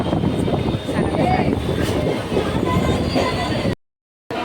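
A train pulling into Thane station in heavy rain gives a continuous rolling rumble and rattle of cars, with background voices throughout and a brief gap of silence near the end.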